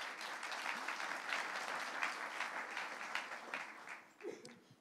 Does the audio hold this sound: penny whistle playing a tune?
no